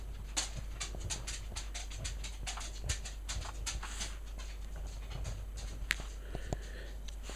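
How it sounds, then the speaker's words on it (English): A dog walks across wooden flooring indoors, producing a steady run of light, rapid clicks and taps from its claws, fairly close and continuous throughout with a few sharper knocks. "that noise you can hear, the dog on the wooden flooring."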